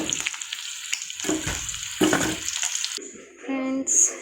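Tiger prawn pakoda sizzles in hot oil with bursts of crackling and frying close up. Stirring clatters through the sizzle, and a brief tonal beep and clink come near the end.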